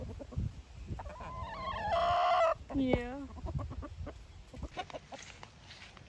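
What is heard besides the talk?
chickens clucking after being fed treats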